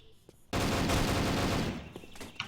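Grenade blast and gunfire in a competitive multiplayer shooter match, a sudden loud burst that stays dense and roaring for about two seconds before tailing off into scattered shots.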